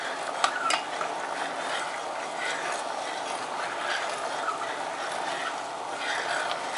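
Homemade maple syrup boiling hard in a pot while being stirred, giving a steady dense bubbling hiss with occasional scrapes of the spoon.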